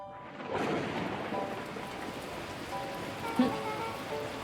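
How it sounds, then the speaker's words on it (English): Torrential rain pours steadily in the Beacon Pines video game, a dense, constant hiss with a low rumble of thunder, fairly faint and distant, with no talking. "the heavens opened up, unleashing torrential rain."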